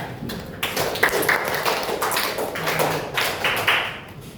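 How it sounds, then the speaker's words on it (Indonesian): Classmates in a school classroom clap for a fellow student during a teaching-practice lesson, a dense patter of many hands close by, steady for several seconds with a few louder claps. "Tepuk tangan teman kita."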